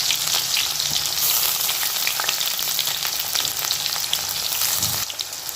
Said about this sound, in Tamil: இப்போ வெங்காயத்தை நல்லா வதக்கிக்கிறோம்